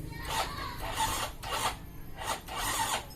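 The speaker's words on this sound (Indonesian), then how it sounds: "Coba kita dilihat di bagian starter, apakah dia mau starter." A Yamaha Mio Soul GT scooter with a dead engine is cranked with a stiff, heavy starter. About five rasping, grinding strokes come close together in a steady rhythm, and the engine does not catch.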